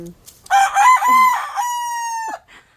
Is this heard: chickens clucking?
yes